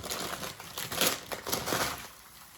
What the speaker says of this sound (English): I'm just gonna remove the paper.